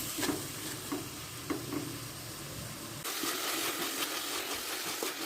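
Tomatoes and onions sauté in a pan for a chicken curry, a continuous sizzle with soft stirring scrapes, the frying growing brighter and louder partway through.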